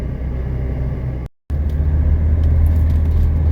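A 1979 Mercedes 300SD drives at steady speed with a continuous low engine and road rumble, cutting out briefly for a moment before resuming.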